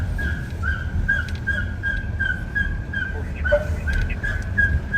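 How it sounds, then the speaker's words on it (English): Dog giving a series of very squeaky, high-pitched barks, repeated at a fairly regular rhythm over a noisy background rumble, like a squeaky toy. "It's a dog. It's a very squeaky bark."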